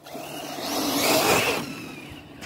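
A Hobao Hyper VSE electric RC car accelerates with a rising high-pitched motor whine that swells, peaks and then fades as it moves away, close by and without talk.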